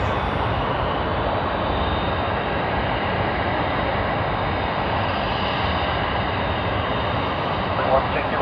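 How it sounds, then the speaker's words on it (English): A Qantas Airbus A380 on final approach to land on runway 34 left at Sydney Airport gives a steady, broad engine roar that holds at an even loudness throughout, with a slight swell at the very end. "A380 of Qantas on finals. Just about to land on runway 34 left."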